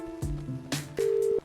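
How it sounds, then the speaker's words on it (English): In the video game Albert Wilde: Quantum PI, a telephone handset is lifted and a short electronic tone sounds. Clicks and soft clunks come first, then a steady beep that holds for under half a second, all quiet and close. "There's a dial tone."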